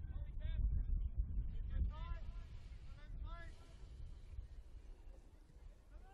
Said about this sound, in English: And a bit windy here now